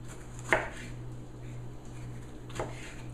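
Knife cutting through ripe home-grown organic tomatoes for drying, two distinct slicing strokes about two seconds apart, close and clear over a steady low background hum.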